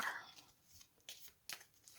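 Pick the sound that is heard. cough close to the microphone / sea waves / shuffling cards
shuffling cards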